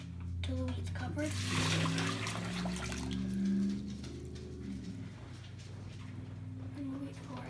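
Water pours steadily over wheat with a gurgling, splashing rush that swells and then eases, under a humming background, while making kutia.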